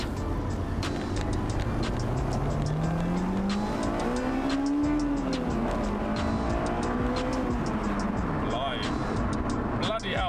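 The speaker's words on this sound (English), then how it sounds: "there's no point of having a VTEC and then not actually opening it up" A Honda VTEC car pulls hard along a country road, its engine note climbing steadily as it revs out, dipping briefly, then rising again, loud and close from inside with road and wind noise.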